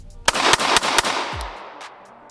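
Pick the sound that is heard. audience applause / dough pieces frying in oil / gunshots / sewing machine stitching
gunshots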